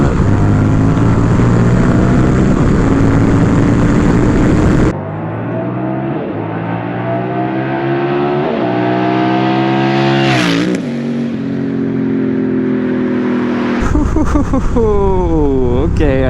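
Honda Rebel 1100 motorcycle with an aftermarket exhaust revving hard in second gear, then sweeping past in a loud flyby with a rising then falling engine note and a brief throttle burst near the end.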